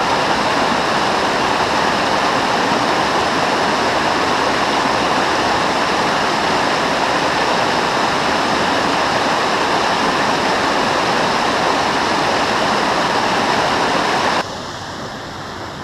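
Rushing water in a New Jersey brook trout creek pours steadily, a loud continuous churning that drops suddenly quieter near the end.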